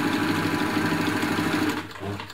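An Elna Lotus SP compact sewing machine runs a wide zigzag stitch at a slightly longer stitch length, a steady fast mechanical whir with rapid needle chatter, loud and close, slowing toward the end.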